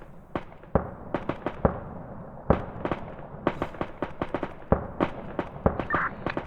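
Repeated mortar fire in a wargame video game: a long run of sharp, dry blasts and pops at irregular intervals, some clustered, some spaced, at moderate distance with no talking.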